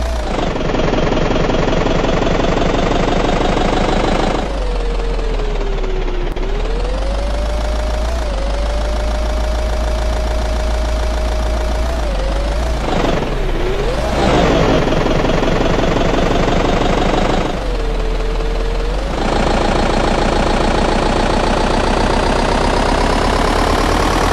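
A loud, steady Daewoo Tico engine in Euro Truck Simulator drones and idles with a harsh, buzzy tone, its pitch dipping and rising briefly a few times, continuous throughout.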